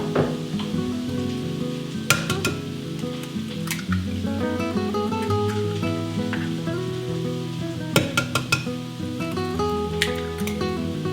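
Homemade hash browns fry in a pan, a soft, steady sizzle running under background music with a few brief clicks and scrapes, and no one speaking.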